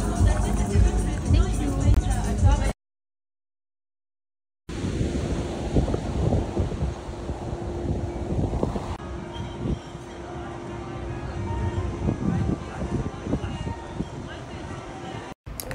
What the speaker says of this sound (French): Il y a un vent les filles